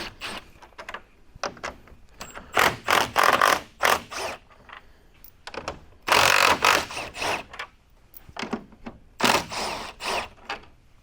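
A ratchet wrench clicks out 10mm bolts from a Ford Bronco grill, bursts of quick close ratcheting strokes separated by brief pauses, with no talking.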